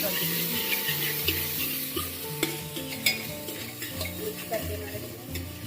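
Vegetables with masala being stirred in a pan, soft scraping and light sizzling with irregular spoon knocks against the pan, a faint voice in the background.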